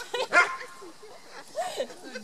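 A Beauceron at a beginners' training session makes a few quick yips and whimpering barks, fairly faint, mixed with people talking in French.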